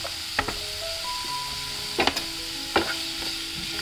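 Chopped vegetables for a puff pizza topping sizzle steadily in a hot pan over a gas flame, with a few sharp scraping clicks of a spoon stirring them, close and clear.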